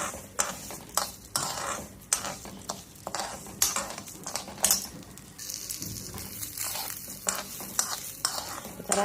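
Moong dal and rice dry roasting in a pan, stirred steadily with a spoon, giving a loud, close run of scraping and rustling strokes with light crackle and no talk.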